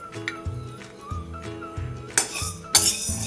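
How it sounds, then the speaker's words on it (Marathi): Dry sago pearls (sabudana) roasting in a metal pan while being stirred, giving repeated clinking and scraping taps in a loose rhythm, close up, with a couple of sharper rattling bursts near the end. "त्यासाठी हा साबुदाणा पहिल्यांदा मी भाजून घेते"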